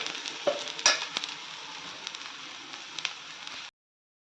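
Ragi adai frying in oil on a pan gives a steady, close sizzle with a few sharper crackles and pops throughout, then stops abruptly near the end.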